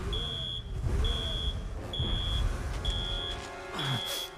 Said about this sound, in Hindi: लेकिन अलार्म क्यों ऑन है?